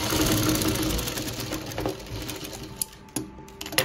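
A sewing machine stitches lace onto fabric in a steady, close mechanical whir that slows and stops, followed by a few sharp clicks and handling sounds.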